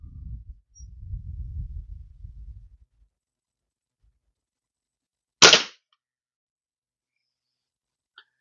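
A single sharp crack from a Kral Arms .22 air rifle fired from a prone position, standing out loud and alone after a stretch of low rumbling handling noise, then quiet with a tiny tick near the end.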